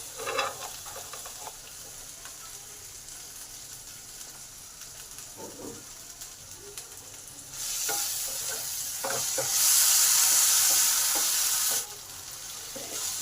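Okra (bhindi) fries in a pan as part of a mixed-vegetable ghonto, giving a steady close sizzle with occasional stirring scrapes that swells into a louder, hissing fry for a few seconds before settling back.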